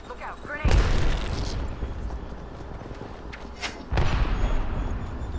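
Two grenades burst in the Apex Legends battle royale shooter, sharp booms about three seconds apart that leave heavy rumbling tails, with someone talking over the fight.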